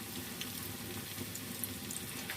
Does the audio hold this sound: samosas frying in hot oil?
yes